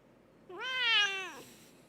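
A pet cat gives a single drawn-out, rising-then-falling meow when squeezed, close and clear against a quiet room.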